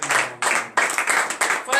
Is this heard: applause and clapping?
yes